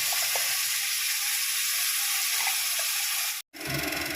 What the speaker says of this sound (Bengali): এবারে দিয়ে দেব পেঁয়াজ বাটাটা, 2টো বড় বড় পেঁয়াজ আমি কেটেছি, সেই পেঁয়াজ বাটাটা দিয়ে দেব।